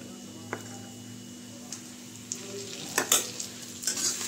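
Ginger, garlic and chili paste goes into a pan of frying onions and potatoes, giving a soft, low sizzle with a few sharp stirring clinks that grow busier toward the end.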